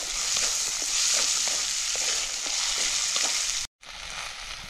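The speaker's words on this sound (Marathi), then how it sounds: "ताजा वाटाणा आहे, त्याला पण चांगला परतून घेऊ." Fresh peas sauté in hot oil with onion and tomato, a steady close sizzle with soft scraping stirs, briefly cut off before resuming.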